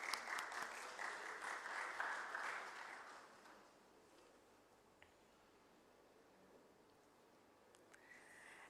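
Audience applause at the listing ceremony of Fascinate Textiles Limited, fairly distant and steady for about three seconds before fading into quiet room tone.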